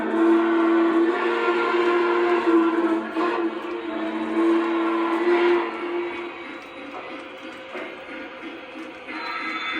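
A Model 844 steam locomotive running, with a steady loud whistle-like tone and rumbling rail noise lasting the whole stretch, fairly close.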